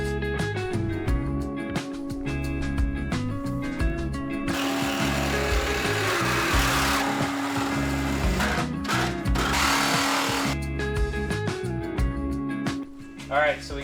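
A power cutting tool slices through the front end of a Mustang car, loud grinding bursts and harsh whining cuts broken by brief pauses, with someone talking over parts of it.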